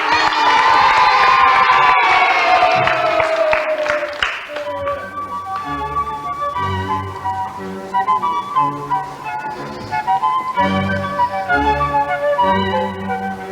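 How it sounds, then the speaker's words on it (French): A studio audience of excited children on a 1990 French TV variety show cheers and shouts loudly for a few seconds before music takes over, with bits of crowd noise continuing underneath. "On les applaudit."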